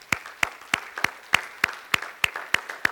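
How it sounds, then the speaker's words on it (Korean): A church congregation claps in a steady, evenly spaced rhythm, about ten sharp, loud claps over a few seconds, close and clear with no talk over them. "우리 하나님께 영광의 박수 한번 돌려야 돼요."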